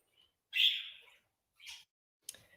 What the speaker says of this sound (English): I'm really sorry for the birds in the background.